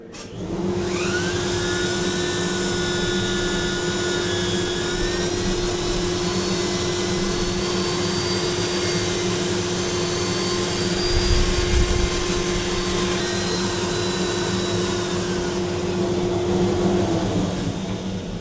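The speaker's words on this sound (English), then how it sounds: "I'll sand a little bit on the outside here." A spinning sanding disc works the outside of a turned wooden bowl, giving a steady whirring drone with a constant tone that runs unbroken from start to finish and swells briefly near the middle.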